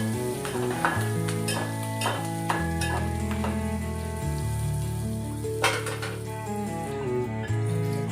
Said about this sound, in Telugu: మంచిగా వేగాలండి